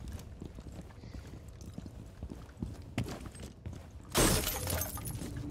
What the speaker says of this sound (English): I hear like everyone's like breaking glass.